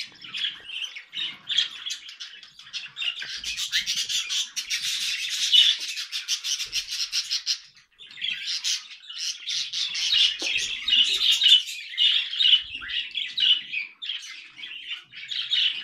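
Birds squawk and chirp almost without pause at a nest holding seven eggs, a near, busy stream of harsh calls with a brief break midway.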